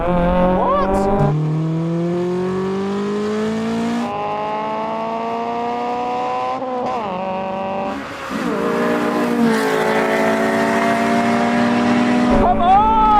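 A supercharged Dodge Charger and a Toyota Supra run a rolling drag race, engines revving loud and rising through the gears in long sweeping pulls, with tire noise and people shouting excitedly over the roar.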